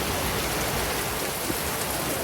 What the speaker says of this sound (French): On est en train de prendre une belle pluie là